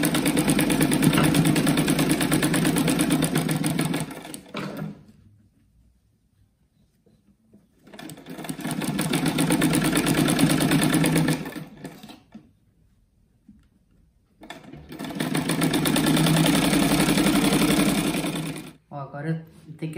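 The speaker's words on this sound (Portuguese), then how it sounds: "Aqui é bom costurar com essas costuras tudo abertas aqui" A sewing machine stitches the open seams of a striped fabric rug in three long, steady whirring runs, each several seconds long, separated by pauses of near silence, loud and close.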